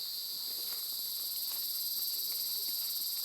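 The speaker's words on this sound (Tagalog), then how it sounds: "Tumutunog ng ating mga kuliglig." Crickets chirp in a dense, steady high-pitched trill that holds throughout in a coconut plantation, with faint scattered rustles and thumps in the background.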